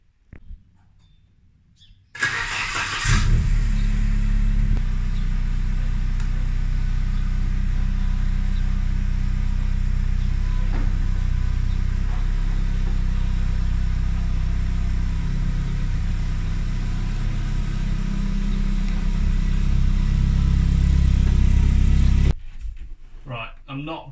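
A Commaero car's engine idles steadily with a low, rumbling drone for about twenty seconds, starting abruptly and cutting off near the end, with voices talking over it.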